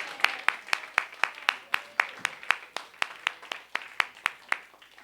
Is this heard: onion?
no